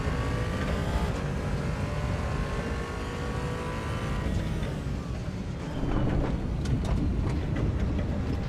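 A damaged race car engine in Assetto Corsa Evo drones loud and continuous, a rough harmonic whine that falls and then rises again with rattling noise as the car keeps driving, with no talking.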